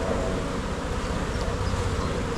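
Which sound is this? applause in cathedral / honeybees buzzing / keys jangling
honeybees buzzing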